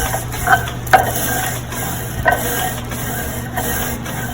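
Roasted cocoa beans being ground by hand with a rocking, rowing motion: a continuous gritty scraping and crunching with a few sharper knocks, close and moderately loud, no voices.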